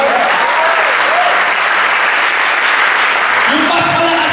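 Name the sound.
applause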